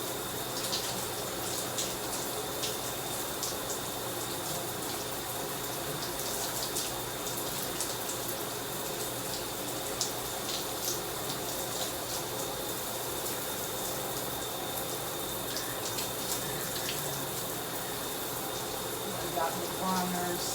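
Steady running water pours while hair is wetted before a wash, a constant rushing hiss that fills the whole stretch with no pauses.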